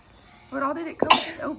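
A single sharp sneeze cuts in between bits of casual talk indoors, close to the microphone and brief.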